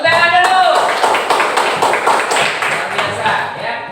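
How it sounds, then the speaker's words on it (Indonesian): Short applause from a junior high school classroom audience, a burst of scattered hand claps following a spoken prompt and fading after a few seconds. "Iya, tepuk tangan dulu."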